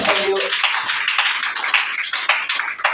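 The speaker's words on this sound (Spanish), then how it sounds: "El que lo crea, déle ese aplauso al Señor." A church congregation at a missionary-day evangelism service bursts into loud, sustained applause, many hands clapping together in a dense, even wash that holds for about three seconds.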